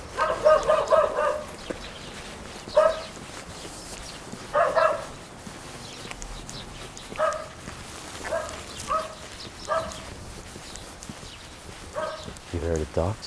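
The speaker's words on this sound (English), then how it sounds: "You hear the dogs?" Dogs barking in a small mountain town in Portugal, several short bursts of barks scattered at irregular intervals, moderately close, with other outdoor noise between them.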